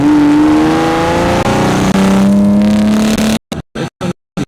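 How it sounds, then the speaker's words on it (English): A vehicle engine hums steadily at a constant pitch, loud and close, then cuts into a few choppy bursts near the end. "The engine and how it's just not clunking around."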